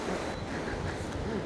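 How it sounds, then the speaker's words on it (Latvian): Rough, steady rush of wind buffeting the microphone over a wash of surf on an extreme day, loud and continuous with no pauses. "Viļņi, vējš,"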